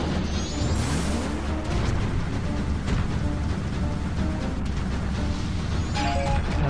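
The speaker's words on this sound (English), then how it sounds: "He also kind of starts throwing out bombs." Bombs burst one after another during the Goht boss chase in The Legend of Zelda: Majora's Mask, loud booms and crashes over dense, continuous game noise with rumbling and sweeping tones.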